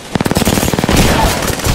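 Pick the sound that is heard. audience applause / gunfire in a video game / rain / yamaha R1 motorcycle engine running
gunfire in a video game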